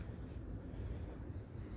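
Wind blows outdoors beside a garden shed area, making a faint, steady low rumble with buffeting against the microphone and no other sounds.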